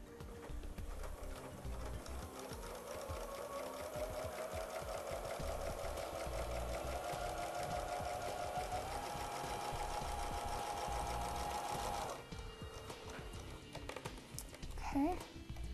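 A home sewing machine runs a long straight basting stitch in one steady, continuous whir for about twelve seconds, then stops and leaves a few faint handling sounds.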